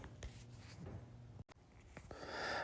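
A pencil traces around a template laid on a wooden butcher block countertop, giving faint, close scratchy strokes with a short pause midway, with no talking.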